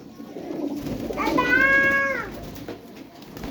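Pigeons for sale at a Punjab market coo low and steadily, with a brief rising higher call in the middle, close by.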